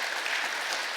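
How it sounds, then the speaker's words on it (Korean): A church congregation at a Sunday worship service claps in a dense, continuous wash of applause, loud and uniform across the whole moment, with no talking. "감사 박수 보내주시면 감사하겠습니다"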